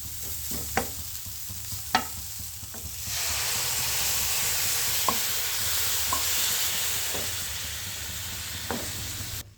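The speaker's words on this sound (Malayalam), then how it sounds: "നമുക്ക് പാലങ്ങോട്ട് ഒഴിച്ച് കൊടുക്കാം." Milk poured into a hot pan of carrot halwa sets off a loud, sustained sizzling hiss partway through, after a quieter stretch with sharp spoon clicks; scattered stirring knocks continue over the steady hiss.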